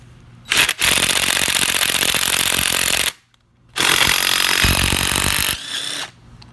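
Electric impact wrench hammering off the power steering pump pulley from an Integra, three loud sustained rattling bursts with short silent gaps between them.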